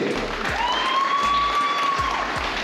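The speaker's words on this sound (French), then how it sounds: "Un tonnerre d'applaudissements, s'il vous plaît." Audience applause at a hypnosis show during a motocross event day, a steady dense wash of clapping throughout, with a faint whistling tone gliding over it.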